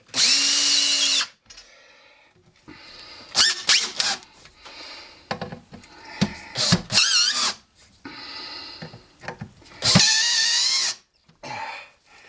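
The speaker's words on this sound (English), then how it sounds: "I'll get these all started in case one of these screws is a little bit misaligned." A cordless drill drives screws to hang a heavy rock slab on a wall. Several loud, close whirring bursts rise and fall in pitch, separated by clicks and handling noise.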